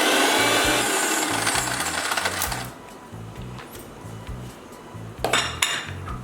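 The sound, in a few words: spoon stirring sugar in a milkshake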